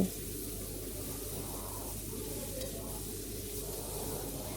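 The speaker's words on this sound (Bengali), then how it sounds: "আবারও বেশ ভালো করে নাড়াচাড়া করে নিচ্ছি" Vegetables and spices being stirred in a pan for a Bengali fish curry give a soft, steady sizzle with light scraping, fairly quiet and continuous, with no talking.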